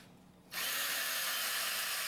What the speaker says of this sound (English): Let me keep drilling.